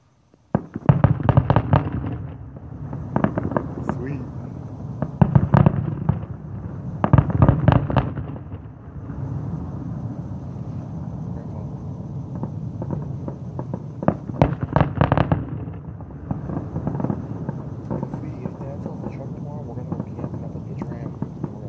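Late-night fireworks over South Palm Desert go off in repeated bursts of booms and crackling pops, loud and fairly close, with quieter rumbling blasts in the gaps between them.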